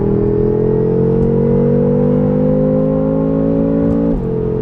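A BMW F10 M5 with performance mods pulls hard from 60 to 130, engine drone steadily rising in pitch, then a quick drop as it shifts, loud and continuous from inside the car.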